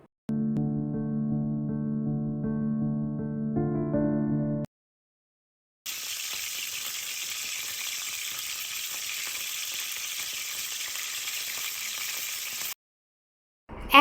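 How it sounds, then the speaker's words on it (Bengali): Chopped onion sizzling in soybean oil in a pan, a steady broadband hiss of frying that runs for several seconds, close and loud, preceded by a short musical tone passage and with no talking. "এখন আমি নিয়ে নিলাম সয়াবিন তেল এবং এতে দিয়ে দিব পেঁয়াজ কুচি"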